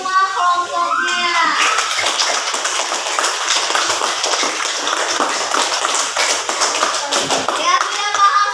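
A classroom of pupils applauds their classmates' groups, a dense, steady patter of many hands clapping together with children's voices mixed in, continuing evenly throughout.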